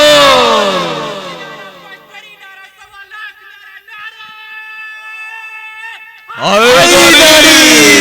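A crowd at a religious gathering chants a slogan back in unison, a loud roar of many voices at the start and again near the end, with a single held, singing voice in between.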